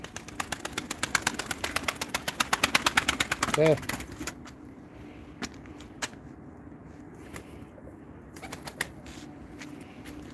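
Pigeons at a bird sale flap their wings in a rapid flurry of close beats, then fall to softer scattered flutters and a low coo, with someone speaking briefly.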